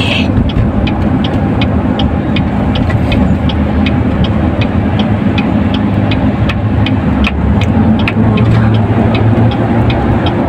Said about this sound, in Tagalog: GMC ang gamit namin sa sasakyan.